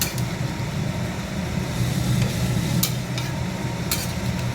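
Vegetable fritters (bora) cook in a vegetarian curry with a steady low sizzle and bubbling throughout, broken by a few faint sharp ticks, with no voices.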